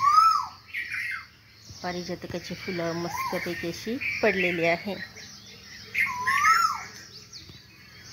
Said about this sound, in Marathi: इथं कोकिळ आणि कोकिळा दोन्ही आहे बघा, त्यांची कू कू